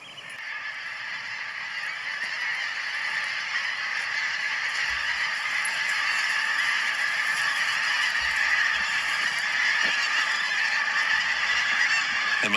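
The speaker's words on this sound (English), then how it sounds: "There's actually a flock of pink-feeted geese flying overhead just as I look now." A large flock of pink-footed geese, several hundred birds in V-shaped formations, honks continuously as it flies overhead along the East Lothian coast, a dense overlapping chorus of calls that builds steadily, with no voices.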